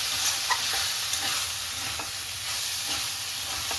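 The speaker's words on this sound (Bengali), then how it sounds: "এখন আমি বেগুন আর শাক ভালোভাবে ভেজে নিচ্ছি।" Eggplant and gimi greens frying in oil, with a steady sizzle and soft scraping of stirring in the pan, close and continuous with no voices.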